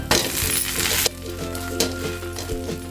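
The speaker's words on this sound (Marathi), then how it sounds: "आता ह्यावर तेल तूप जे पाहिजे ते लावायचं आहे आणि झाकण लावून मीडियम फ्लेमवर फ्राय करून घ्यायचे" Thalipeeth flatbread frying in oil or ghee in a covered pan over medium flame: a bright, loud sizzle at first, then a quieter frying hiss broken by a few metallic clinks.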